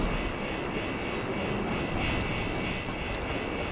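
In the video game Resident Evil 6, a helicopter gives off a continuous whooshing roar, a broad steady engine and rotor wash with no pauses and no speech.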